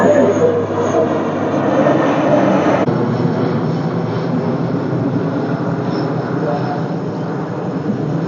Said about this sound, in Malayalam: അടുത്തതാ വേറൊരു പ്ലെയിൻ വരുന്നുണ്ട് കേട്ടോ.